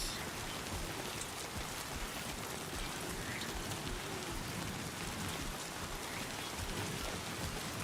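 Steady rain falls in the video game Death Stranding 2, a soft, even hiss of drops on surfaces that carries on without pause at low volume, with no voices.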